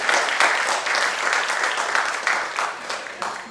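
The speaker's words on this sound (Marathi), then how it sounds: "टाळ्या वाजवून आपण त्याचे जोरदार स्वागत करूया" An audience claps loudly in sustained, dense applause to welcome the renowned calligrapher Achyut Palav as chief guest at a Marathi talk event. The clapping holds steady for several seconds with no one speaking.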